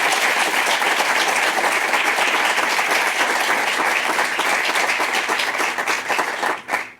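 Strong, sustained applause from an audience honoring the judges at a results announcement, dense and even for about six seconds before tapering off abruptly.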